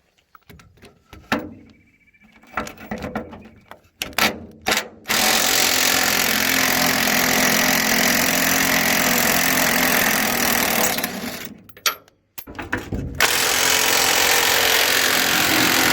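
An impact wrench loosens bolts on a Duramax truck, with short hammering bursts and clanks at first, then a long loud continuous rattling run, a brief pause, and another burst, up close.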